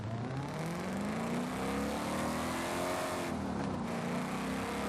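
Ford Mustang SVT Cobra engine in Forza Horizon 5 on Xbox Series X, revving loudly and continuously with rising and falling pitch, close and alone.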